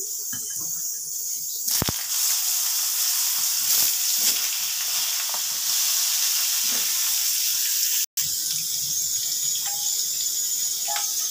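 Cut, washed eggplant goes into hot oil while cooking a fish curry, giving a steady, bright sizzle with a sharper spatter near the start.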